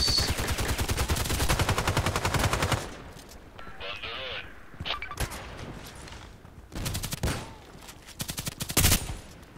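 Automatic gunfire in the online shooter Contract Wars, with long loud bursts of rapid shots and shorter volleys between brief pauses, plus game effects in the gaps.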